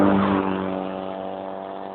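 A car engine drones steadily with a strong low hum that slowly fades as the vehicle moves off, heard alone with no voices.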